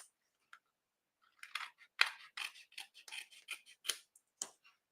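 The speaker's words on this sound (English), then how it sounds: "I think I'm going to trim a little bit more off the edges here." Designer series paper having its edges trimmed, with a few isolated snips followed by a busy run of short, crisp cutting and rubbing strokes, close and fairly quiet, with no talking.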